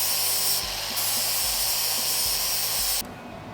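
A grinder works over a freshly welded lower A-pillar panel on an FC Holden under restoration, giving a loud, continuous, bright hiss and whine close by, then dropping off near the end.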